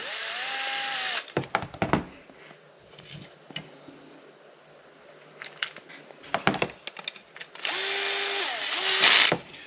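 Power drill driving screws into an RC sprintcar kit, heard as two bursts of high whirring, the first short and near and the second longer, separated by small clicks and handling noises.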